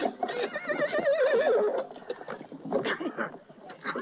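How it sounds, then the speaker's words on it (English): A horse gives a loud, shaky whinny close by, followed by rustling movement and faint background murmurs. "Jack, I found a horse"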